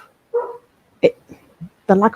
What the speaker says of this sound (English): Sorry about the dog if you can hear her.